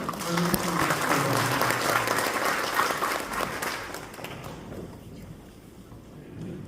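A congregation at a Korean church elders' couples retreat applauds with loud, dense clapping that holds for several seconds, then fades out as a voice carries on talking.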